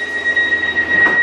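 A train on the Manchester Piccadilly to Crewe route rolls past close by, with a steady rumble and a high, sustained wheel squeal running throughout.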